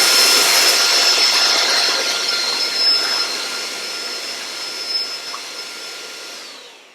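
An electric hand mixer whirring steadily through yogurt in a small bowl, a loud close high-pitched motor drone that slowly fades toward the end.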